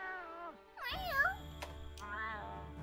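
A cat character meows in the video game Monster Hunter Rise, a couple of drawn-out, rising and falling mews that are clear and close, with someone speaking around them.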